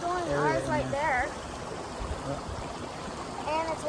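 Water flows steadily out of a small backyard dam, a soft continuous trickling rush close by, partly masked by people talking over it.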